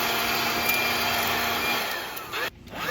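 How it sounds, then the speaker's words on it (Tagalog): A vacuum cleaner runs steadily and loudly while sucking up dust and food crumbs from a bench, its broadband whine holding constant before a brief drop near the end. "Gwapo ni nga vacuum ni."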